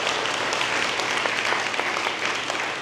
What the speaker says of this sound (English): Please give Calvary Chapel Church a round of applause for allowing them to be here